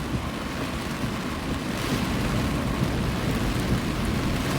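Heavy rain pours steadily in New York, a dense, even roar with a deep thunder rumble underneath, loud and continuous throughout with no voices.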